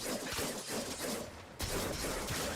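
A weapon's alternate fire in the video game Warframe lets off rapid crackling bursts, fairly quiet, in two runs separated by a brief dip, with no talking.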